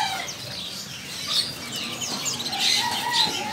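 White canaries chirp and tweet in short bright calls over a busy, noisy background with faint rustling.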